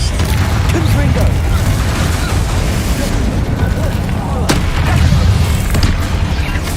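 Confringo spells blast during a hard-mode combat fight in the Hogwarts Legacy video game, making loud, dense booming explosions that rumble continuously and close up, with game voices mixed in.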